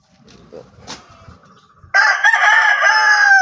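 A brood stag rooster crows once, close and loud, a long strained call rising after a second or two of soft clucking and rustling in the pen.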